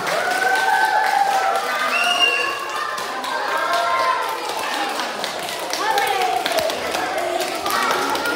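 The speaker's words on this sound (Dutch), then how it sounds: "Een dik applaus voor jullie allemaal." An audience at a primary school welcome for first-grade children claps steadily throughout while voices talk over the applause.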